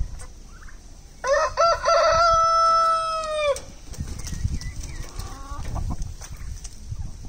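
A rooster gives one loud, close crow lasting about two seconds, followed by softer clucking from chickens in a farmyard flock.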